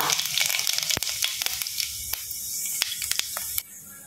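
Cumin seeds hitting a generous pool of hot oil and frying for a thick fish and greens curry, a loud, steady crackling sizzle with popping bursts that fades sharply near the end.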